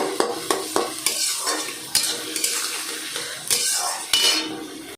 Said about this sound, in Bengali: পেঁয়াজ কুচি, আদা কুচি, রসুন কুচিটাকে ভালো করে লাল করে ভেজে নেব